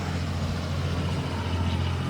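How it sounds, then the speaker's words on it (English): A big, very loud truck rumbles past in a small town, a steady low engine drone with a droning hum throughout, no voices over it. "Very loud truck."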